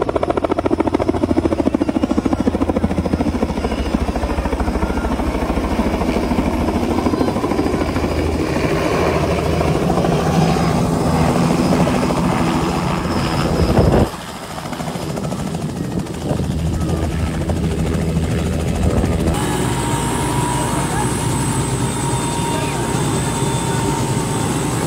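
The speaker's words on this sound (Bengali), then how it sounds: "হেলিকপ্টার শোনা যেতেছে আইতেছে সম্ভবত হেলিকপ্টার" A helicopter approaches with a loud, steady roar of rotor and engine that fills the whole stretch, dipping briefly midway before surging back. Faint voices may sit beneath the noise.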